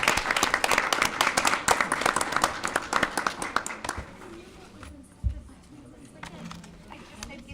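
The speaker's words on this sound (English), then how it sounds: "we'll clap for you" Audience members applaud at a school district board of education meeting, with a dense burst of clapping for about four seconds that stops abruptly and gives way to quiet room chatter.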